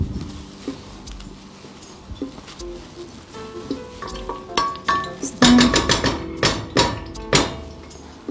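Onions frying in hot oil in a pan, a rising sizzle with clinks and scraping of a utensil against the pan, close and fairly loud, no talk.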